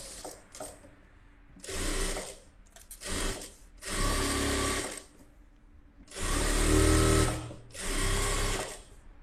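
A sewing machine stitching piping runs in several separate bursts of rapid whirring and clatter, each lasting one to two seconds with short pauses between, heard close and fairly loud with no talk.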